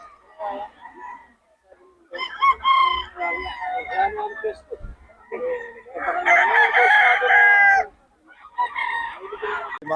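Several roosters crow in long, loud bursts one after another, close by among clucking chickens, with brief pauses between calls and a voice talking at moments.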